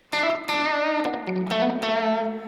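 An electric guitar through a doubler and reverb pedal preset rings out in a few sustained, thickened chords with a spacious, washy tail, played up close.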